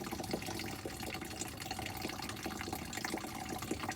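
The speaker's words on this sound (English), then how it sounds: "you're going to spin that little knob and water's going to come out, or radiator fluid" Coolant trickles and splashes steadily from the opened radiator drain on a Ford 6.0 diesel truck, a faint continuous watery pour.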